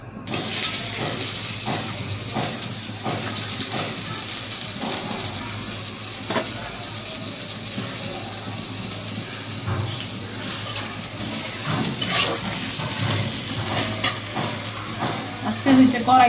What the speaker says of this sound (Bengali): তেলটা গরম হোক, পেঁয়াজ দিয়ে দিই।